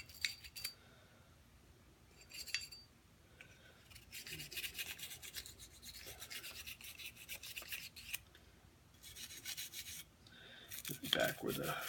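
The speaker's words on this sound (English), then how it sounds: "back where the firing pin is, give it a nice little scrub" Brushing and wiping on firearm parts around the firing pin, extractor and ejection port during a gun-cleaning lab: close, quiet scratchy scrubbing strokes that come in short bursts with brief pauses.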